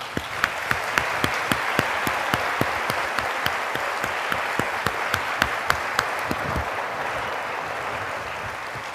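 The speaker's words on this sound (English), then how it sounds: "So how about a warm round of applause for all of them?" Sustained applause from the audience at a medical school white coat ceremony, with steady dense clapping and sharp individual claps standing out throughout, fairly close and filling the hall without any talk.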